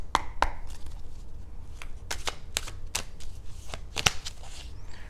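Tarot cards being shuffled for a card pull, heard as a series of crisp, irregular riffling snaps and slaps, close and fairly quiet, with no talking.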